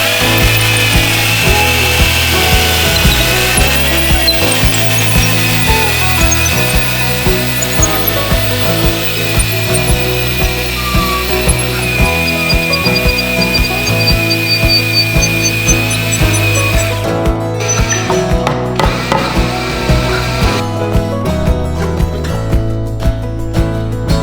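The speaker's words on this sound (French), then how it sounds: "de l'autre côté je vais percer des trous de chapelle" Power drill boring holes into a wooden cross, a loud motor whine with grinding, chattering bursts as the bit bites the wood, running nearly continuously and close, with short pauses toward the end.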